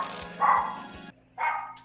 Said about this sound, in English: That's a loud doggo.